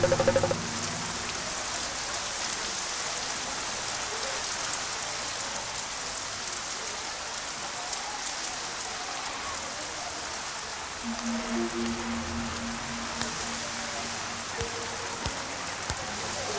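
Heavy monsoon rain pours steadily outdoors near a school, a dense continuous hiss lasting throughout with a few brief louder patters.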